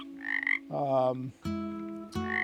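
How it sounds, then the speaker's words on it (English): Frogs croak one after another in long, droning calls, fairly close and clear against an otherwise quiet night on Pinder Peak, northern Vancouver Island. "Frogs are croaking in the background behind me."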